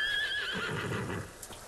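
A horse in the samurai video game Ghost of Tsushima gives a long, loud whinny that falls in pitch over the first half, followed by soft clip-clop hooves.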